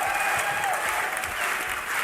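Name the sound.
crowd applauding at a Dota esports match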